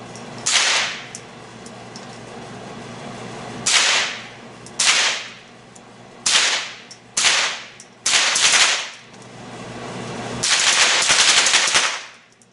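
Semi-automatic .22 rifle, a Ruger 10/22 fitted with a Franklin Armory BFS-III binary trigger, fires several sharp, loud shots. They come singly and in quick paired bursts, with the last burst a dense rapid string, and no talking.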